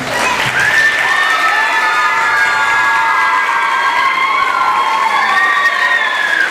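A crowd of children at a school event claps and cheers with high-pitched shouts. The noise is loud and continuous throughout.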